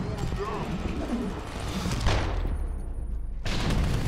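Typhoon explosive augmentation bursting in the video game Deus Ex: Human Revolution during a boss fight, a loud cluster of blasts with a sharp burst midway and rumbling aftermath, under a busy combat din.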